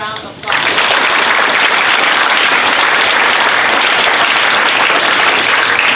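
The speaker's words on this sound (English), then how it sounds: "please give them a round of applause." Loud, dense audience applause breaks out after a brief lead-in and holds steady for several seconds, a continuous wash of many hands clapping close by.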